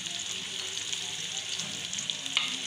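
Onions fry in a deep cooking pot, a continuous close sizzle and crackle with soft stirring, no voices.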